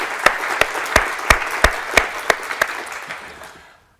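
A small symposium audience claps for the event organisers, a few sharp, distinct hand claps standing out over a thinner patter, tapering off and ending in silence just before four seconds.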